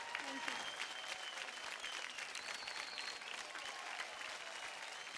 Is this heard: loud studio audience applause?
yes